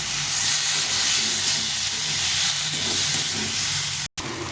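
Spice paste with tomato, turmeric powder and salt frying steadily in a pan, a continuous close hiss and sizzle with faint stirring, cut by a brief dropout near the end.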